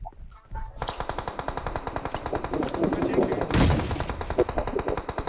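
Automatic gunfire in the mobile battle royale game BGMI, rapid sustained bursts rattling continuously and loudly for several seconds, with game sounds and faint background voices mixed in.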